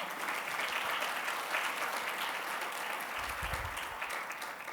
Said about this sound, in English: let's thank them and give them a big round of applause for all of their financial support